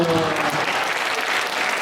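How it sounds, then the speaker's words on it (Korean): A chapel congregation breaks into brief applause, a steady dense clatter of many hands. A voice may be faintly under it at the start. "박수"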